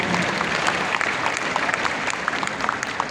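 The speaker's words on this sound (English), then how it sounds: "Let's give him a round of applause for all the work that he's done." An audience applauds steadily with dense, even clapping that fills the space for a few seconds, a faint murmur of the crowd beneath.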